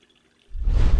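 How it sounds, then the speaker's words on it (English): Water poured over coffee grounds in an OXO compact cold brew maker, a soft close splashing pour that starts abruptly halfway through after near silence and keeps rushing steadily. "So now I'm just going to go ahead and take my water and start pouring right over there."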